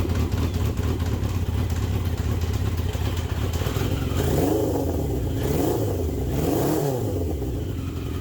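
A Yamaha XJ650 motorcycle engine, about 40 years old, with the exhaust baffle removed, idles steadily, then revs up sharply a few times in rising and falling surges, loud and close.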